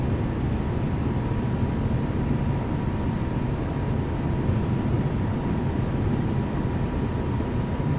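An Airbus A320neo accelerating down the runway for takeoff in a flight simulator, with a steady, loud, unbroken broadband engine roar and a faint tonal whine holding throughout.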